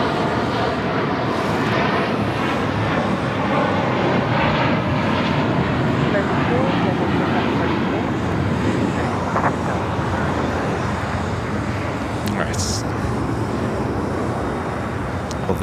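A Hawaiian Airlines Airbus A330 arriving from Honolulu at LAX, its engines a steady broadband roar that holds loud and constant throughout, with wind and background voices mixed in.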